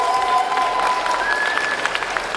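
A crowd at Paris Manga gives steady applause, a close, dense patter of clapping lasting a couple of seconds, with a few faint voices mixed in.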